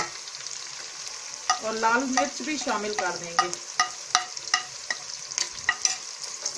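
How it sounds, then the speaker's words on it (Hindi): Red chili, cumin, turmeric and salt sizzle in hot oil for a mixed vegetable salan, with steady frying hiss broken by rhythmic spoon scrapes and stirring knocks while someone talks over part of it. "इसको थोड़ी देर मिक्स करके भूनेंगे।"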